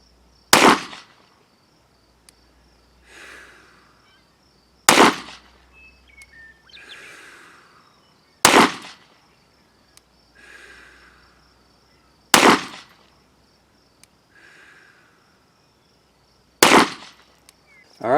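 Five sharp pistol shots fired at a target through a red dot sight, spaced several seconds apart outdoors, each a loud crack followed by a fading echo.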